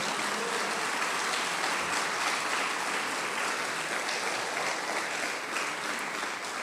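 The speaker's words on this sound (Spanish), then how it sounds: "Dele un aplauso al Señor." A church congregation at a Baptist Sunday service applauds in a continuous, even roar of clapping that fills the room steadily with no talk over it.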